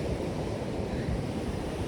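Steady roar of surf and wind buffeting the microphone, continuous and loud with no breaks or voices.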